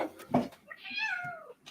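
A cat gives one drawn-out, rising and falling meow at moderate distance, with faint voices around it.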